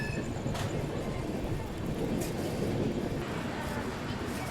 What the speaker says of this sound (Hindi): देखिए फ़िलहाल अपनी ट्रेन अन्नूपुर जंक्शन को स्किप करने वाली है।